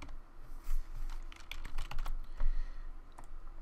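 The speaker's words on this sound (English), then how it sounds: "So I'll just type in a dummy name right here." Quick, uneven taps of typing a name on a Windows Phone keyboard, close and fairly quiet, a loose run of light clicks with short pauses and no voices.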